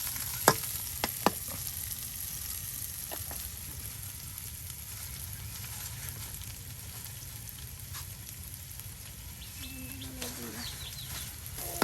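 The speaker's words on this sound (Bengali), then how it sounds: "নানি সুন্দর করে পেঁয়াজটা প্রথমে তেলের সাথে ভাজা ভাজা করে নিচ্ছে" Onion fries in oil in a village kitchen, giving a steady, even sizzle that runs the whole time, with a few sharp clinks near the start and faint birds and farm sounds in the background.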